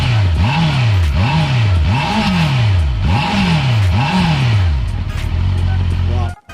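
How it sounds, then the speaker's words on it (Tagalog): A Honda CBR650R inline-four 650 engine is blipped five times in a steady rhythm, each rev rising sharply and falling back, before it settles into a smooth idle, all heard close and loud. "parang hindi gusto niyo tunog na inline 4 650. CBR 650R inline 4."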